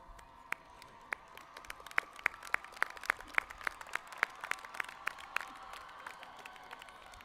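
An audience at an opening convocation clapping for the Dean of Students: sharp, evenly spaced claps in a rhythmic beat, fairly distant and soft, with no clear cheering above them.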